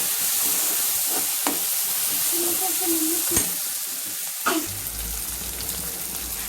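Green peas frying in a pan for a mixed cauliflower, carrot and capsicum curry, a steady broad sizzle with occasional scraping stirs and a low hum entering near the end; no talking.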